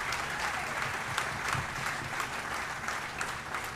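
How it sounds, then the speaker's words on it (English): A crowd at a fire chief's retirement open house claps steadily and enthusiastically, dense continuous applause filling the room without a break. "clap it up."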